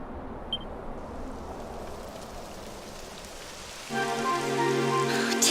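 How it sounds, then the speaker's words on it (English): Rain falls in the video game Dragon Quest XI, a soft steady patter that thickens into louder, denser rainfall with a musical tone joining near the end. "It would have to go and start raining, wouldn't it?"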